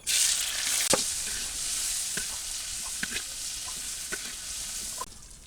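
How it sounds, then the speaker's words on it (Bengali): Chopped onion, garlic and green chilli fry in hot oil, making a loud, steady close sizzle with a few sharp clicks of stirring, then dropping off sharply near the end. "তেল দিয়ে দিলাম পিঁয়াজ কুচি রসুন কুচি আর মরিচ কাঁচা মরিচ একসাথে দিয়ে দিলাম"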